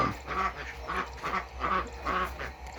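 Muscovy ducks and common ducks kept for eggs quack in a steady, repeating rhythm of about five loud, nearby bursts with no talking.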